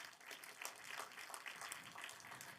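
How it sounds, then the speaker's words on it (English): Audience applause at a tech festival energy panel, a soft, fairly distant wash of many hands clapping, steady throughout and with no talk over it. "Another big round of applause, please."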